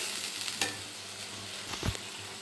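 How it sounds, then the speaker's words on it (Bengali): Spice paste frying in a pan with a splash of water for a rohu fish and ridge gourd curry, a soft steady sizzle with two distinct scraping stirs, quiet and close. "এবার আমি মশলাটাকে কষানোর জন্য দিয়ে দেবো সামান্য পরিমাণ জল"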